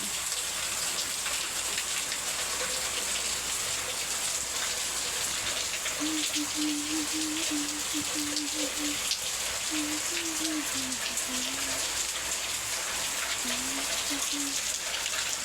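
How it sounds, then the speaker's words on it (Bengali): A sudden heavy downpour falls outside a house as a dense, constant hiss of rain, with a faint voice heard briefly partway through. "বাড়ি থেকে বসে যদি এত সুন্দর বৃষ্টি দেখতে পাওয়া যায় তাহলে আর কি চাই"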